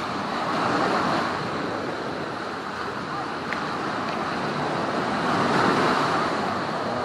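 Steady ocean surf on Pompano Beach, a broad continuous wash of breaking waves, loud and close, with wind noise over the microphone and no pauses across the stretch.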